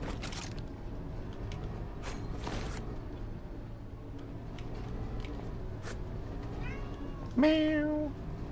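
Cat meow in the video game The Last Caretaker, set on an oil rig, a single clear drawn-out meow near the end over a steady low mechanical hum and occasional faint clanks.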